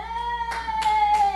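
An audience at a town council meeting claps in three brief scattered bursts, faint and indoors, over a steady electrical hum.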